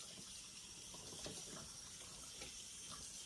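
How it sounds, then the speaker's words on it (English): Cold water runs from a kitchen sink tap while peaches are rinsed, a continuous soft hiss and splash that stays faint and steady, without speech. "Rinse off your peaches with cold water."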